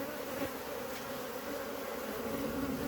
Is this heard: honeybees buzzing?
yes